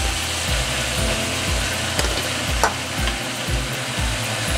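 Bone-in Korean galbi short ribs sizzle hard in a pan, a steady loud frying hiss broken by periodic scrapes and stirring knocks, close and continuous with no talk.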